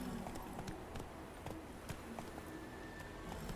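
A horse galloping in The Witcher 3 video game, with quick, faint hoofbeats clopping in a steady rhythm inside a constant, noisy backdrop of ambient game sound.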